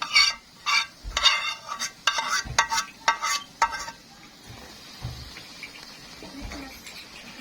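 Hot flour mixture in a pot being stirred, with a burst of quick scraping, knocking strokes early on, then a quieter stretch of softer movement and low sizzle, no voices.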